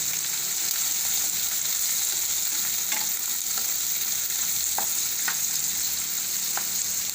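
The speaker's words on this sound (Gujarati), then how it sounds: "તો ડુંગળીને આપણે ઘડીક વાર તેલમાં સડવા દઈશું" Chopped onion fries in hot oil in a pan over a lowered gas flame for a capsicum and curd curry. A steady, dense sizzle runs throughout, broken by a few soft clinks from a stirring spoon.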